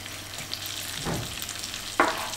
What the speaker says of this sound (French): On va les faire bien revenir dans le beurre.